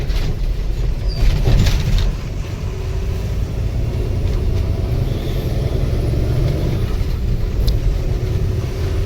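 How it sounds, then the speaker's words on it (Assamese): Cars and other vehicles passing on a highway on the road from Manipur to Assam; a steady low engine and tyre rumble fills the scene, with traffic noise continuous and fairly near, no talking. "আগৰ পৰা গাড়ীবোৰ আহি আছে এতিয়া।"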